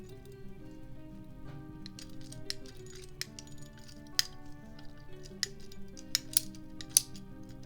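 A pipe cutter is worked around plastic plumbing pipe, giving faint, sparse ticks and sharp clicks over a low hum. The clicks grow denser toward the end, and a voice speaks briefly.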